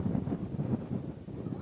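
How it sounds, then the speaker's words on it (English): Low, blustery rumble of wind buffeting the microphone, steady and close throughout the short clip with no other sounds. "Thank goodness it's windy."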